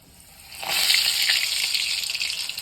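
Coriander bhaji fritters frying in hot oil, with water in the batter making a loud, hissing sizzle that rises sharply after half a second and then crackles steadily, close up and without voices.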